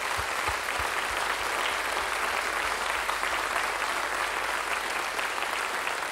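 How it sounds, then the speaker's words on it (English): A concert audience applauds warmly, a dense, steady wash of clapping from a large crowd that carries on evenly throughout without speech. "Will you give them all a big round of applause,"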